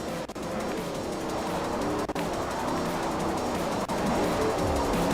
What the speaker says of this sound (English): Alright, this car drives really well.